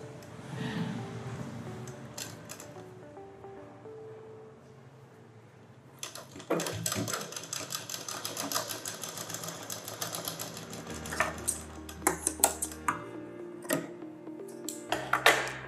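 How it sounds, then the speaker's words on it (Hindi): A sewing machine stitches a straight seam along the shoulder of a kurti, half an inch from the edge, its rapid mechanical clatter starting about six seconds in and running in bursts with brief pauses, close and fairly loud, without talk. "आधे इंच की दूरी पर हम इसकी सिलाई सीधी लगाएंगे।"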